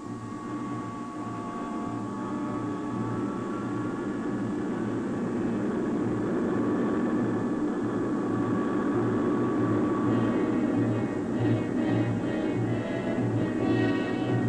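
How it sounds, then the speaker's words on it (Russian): A long-range turboprop military aircraft flying, heard as a steady, loud droning engine roar with a pulsing low hum that holds throughout without pause. "Реактивные турбовинтовые машины дальней авиации могут находиться в воздухе десятки часов."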